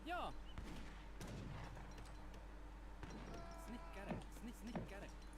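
Cannons and gunfire booming in a video game battle, repeated sharp blasts scattered through a busy mix with someone talking over it.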